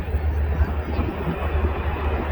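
Czech-built L-39 jets of an airshow jet team roll on a formation takeoff, a steady low jet rumble and broadband roar holding throughout, distant and continuous with faint voices underneath.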